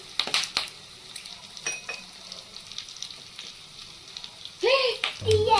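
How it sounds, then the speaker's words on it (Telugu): Oil sizzles quietly as curry leaves fry in a pan, with a few clinks of a utensil and a louder burst of activity near the end. "కొంచెం వేగనిద్దాం కరివేపాకుని"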